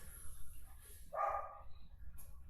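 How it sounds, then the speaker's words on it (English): A single short dog bark rings out once in a quiet room during a gentle yoga class, moderately loud against a low background hum with no talking over it. "Did you just wake yourself up with a bark?"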